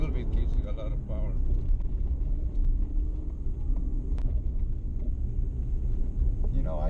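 A 2017 Chevrolet Colorado ZR2 rumbles along a dirt track, its engine a steady low roar mixed with rough road noise, while a voice talks over it in the cabin.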